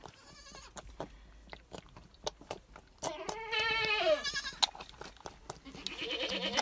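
Several dairy goats bleat close by, waiting to be milked, their wavering cries overlapping, amid sharp clicks and scattered handling noises.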